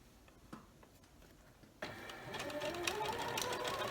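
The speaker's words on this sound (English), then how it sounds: "So here I'm sewing a scant 1/4 inch along each side of the drawn line." A domestic sewing machine runs steadily as it stitches a scant quarter-inch seam beside a drawn diagonal line on a scrappy quilt block. The motor whirs up suddenly after a quiet start and holds a loud, even running tone close to the microphone.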